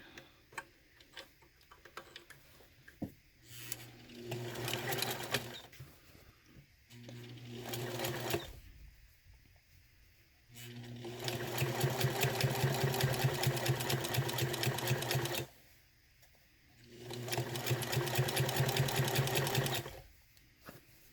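A sewing machine stitches a zipper pocket in several runs, its rapid even mechanical ticking close and fairly quiet, with pauses between the bursts of stitching.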